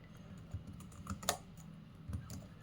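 Typing on a computer keyboard while entering a year into a terminal to run a C leap-year program: sparse, soft key taps close by, with a sharper press standing out, and no talk.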